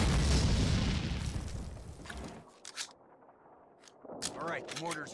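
Mortar blasts in Call of Duty (2003) land as a heavy rumbling boom that decays over a couple of seconds, followed by sharper gunfire pops and a voice speaking.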